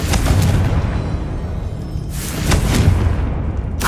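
Booming blasts of the Confringo spell in Hogwarts Legacy burst out one after another, loud and close, each a deep rumbling explosion with a sharp crack at its start.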